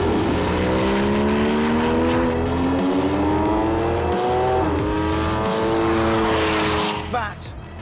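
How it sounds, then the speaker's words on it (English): Old Porsche Cayman S with a naturally aspirated six-cylinder engine revs hard and loud through rising gears, a smooth climbing wail with a brief dip for a shift, then cutting off near the end; voices may be faintly present. "That there is the old Cayman S. 6-cylinder, normally aspirated engine"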